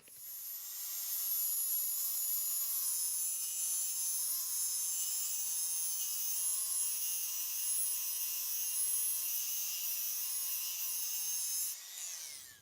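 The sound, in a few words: grinding blades back to balance them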